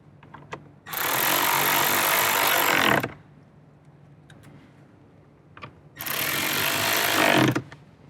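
Two long, steady whirring bursts from a power driver sink Phillips-head 10mm screws to secure a car radio in a Toyota 4Runner. Each run lasts about two seconds, with quiet handling clicks between them.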